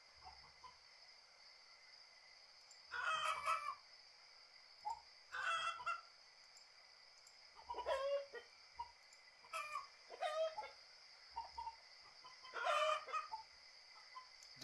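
Chickens in the survival video game Survive the Nights cluck and squawk in about six short bursts at irregular intervals, over a steady background hum, with no one talking.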